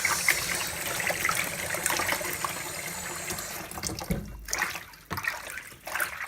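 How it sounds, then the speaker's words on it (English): Cold tap water gushes steadily into a bowl at an allotment and is then swirled and mixed by hand, the rushing flow breaking into splashy sloshes near the end. "I'll run some cold water into a bowl, and I'll give it a good mix around like this."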